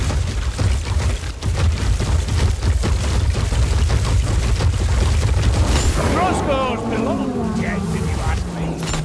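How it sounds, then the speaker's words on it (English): Missiles blast into a crowd of chipmunks in a video game, a dense run of rumbling booms and explosions that gives way to warbling, squeaky high tones, loud and continuous. "watch what happens when 4 missiles collide with 100 chipmunks at the same time."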